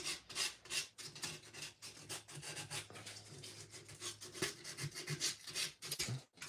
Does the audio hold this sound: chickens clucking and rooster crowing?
no